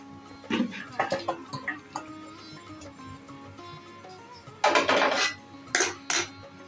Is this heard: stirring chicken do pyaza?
yes